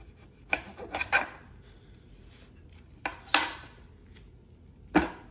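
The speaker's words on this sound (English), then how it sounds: "Cut your limes in half." A knife slicing limes in half on a cutting board in a home kitchen while making shrimp ceviche, several sharp, distinct chopping thuds spaced irregularly over quiet room tone.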